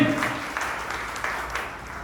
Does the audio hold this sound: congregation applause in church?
yes